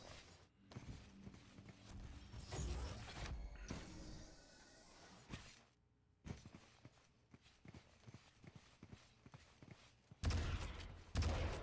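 Rocket launcher fire in a competitive Quake match, with repeated booming blasts and explosions mixed with rapid running footsteps and other weapon fire, loud and busy throughout.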